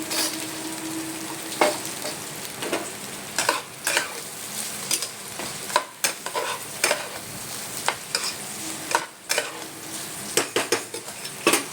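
Ghee sizzling in a hot pan, a constant crackling fry punctuated by clinks and scrapes of a spoon against the pan, close and without talk.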